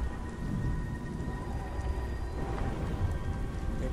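Steady rain pours down with a soft hiss and low rumble in the video game Beyond: Two Souls, constant and moderately loud, with no voices.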